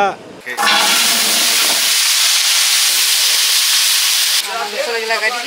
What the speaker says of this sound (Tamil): அக்கா வந்து சாந்துக்கு உண்டான வெங்காயம் தக்காளி இதெல்லாம் வதக்க போறாங்க எண்ணெயில.